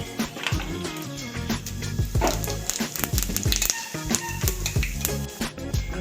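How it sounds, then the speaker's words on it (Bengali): Two bay leaves, dried red chilies and whole cumin sizzle and crackle in very hot oil for chana masala, a loud continuous frying hiss scattered with sharp popping spits and clicks throughout. "আমি দুটো তেজপাতা শুকনো লঙ্কা ফাটিয়ে দিচ্ছি আর একটু গোটা জিরে ফোড়নে দিয়ে দিচ্ছি।"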